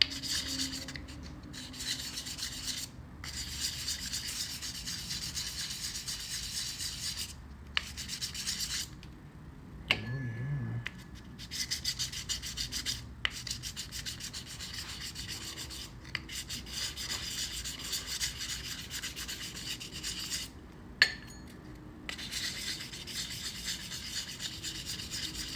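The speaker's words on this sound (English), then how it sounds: "then they're getting down filing and then sanding" Hand sanding and filing of a sculpture, steady rhythmic rasping strokes repeating at close range, quiet and continuous with brief pauses between passes.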